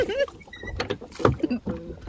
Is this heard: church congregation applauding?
no